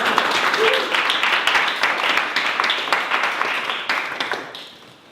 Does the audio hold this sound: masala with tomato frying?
no